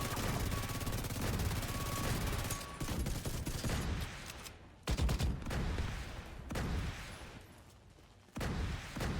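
Sustained automatic gunfire rattles loudly in a video game raid boss fight as a console is shot up, with dense bursts broken by brief pauses and a final burst near the end.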